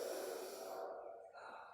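Deep breath pushed out loudly as a breathing exercise for ninth-grade students, one long, forceful, breathy exhale that fades away after about a second, with no talking over it.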